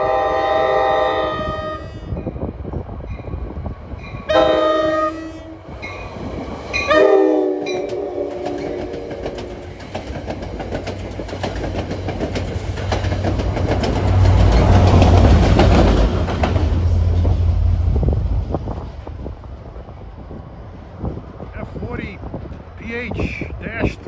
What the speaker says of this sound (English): Some unscheduled train there. Had a GP40 on the point.